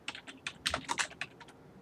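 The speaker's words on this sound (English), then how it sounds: "It's Louis typing." Fingers type quickly on a computer keyboard, with uneven bursts of crisp, close key clicks and no talk.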